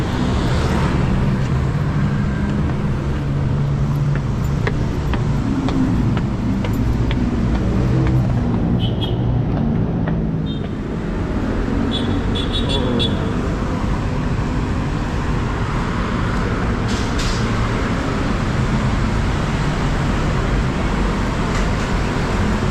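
Busy road traffic beside the Skyway in Baclaran, a loud, unbroken roar of passing cars and heavy vehicles that fills the whole stretch without letup.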